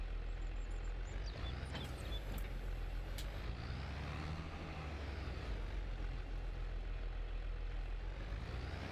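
Tractor engine rumbling in the farming video game Farming Simulator 22: a continuous low, moderately loud drone with slight shifts in pitch and no talk over it.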